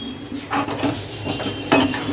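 Potato and spinach mixed in a pan with a spoon make a brief series of close metallic clinks and scrapes against the pan.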